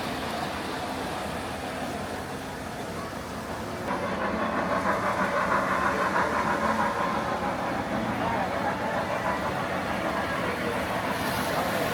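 A freight train carrying coal or gravel rumbles across a bridge, a steady rolling roar that swells after a few seconds and holds, with a voice talking over it.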